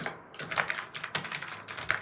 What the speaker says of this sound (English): I'm typing, so I will type something.